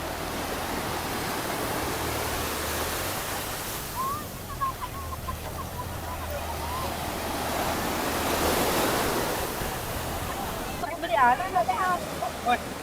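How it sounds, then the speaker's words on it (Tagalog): Strong sea waves roar in a continuous wash around a boat on an island-hopping trip off Zambales, loud with wind noise on the microphone, while people talk briefly over it. "Malakas ang alon."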